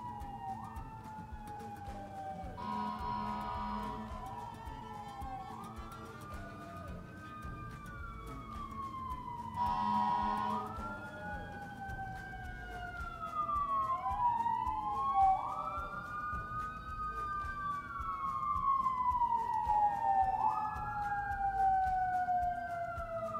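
An ambulance siren passes near a hospital, its rising and falling wail swelling from fairly distant to closer and louder over the span, with no talk over it.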